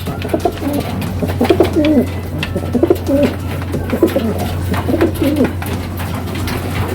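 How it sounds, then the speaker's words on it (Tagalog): Two curly-feathered pigeons coo in soft, repeated rolling phrases close by, with a steady low hum running underneath and no talking. "itong ating dalawang makulot na kalapate"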